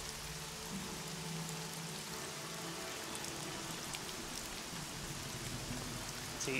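Steady rain falls across a campaign scene, a dense continuous hiss of drops on surfaces with a faint low rumble underneath, even and unbroken throughout with no voices.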